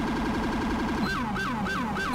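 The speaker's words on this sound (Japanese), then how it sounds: "すごい変わったサイレンだね。" An unusual New York-style LCPD police car siren in GTA5, first a fast warbling yelp, then switching to a slower sweeping wail that rises and falls repeatedly, loud and continuous with no talking.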